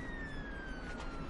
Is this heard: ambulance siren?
yes